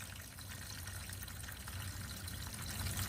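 Water flows steadily with a soft pouring, trickling texture, faint and continuous, growing a little stronger toward the end.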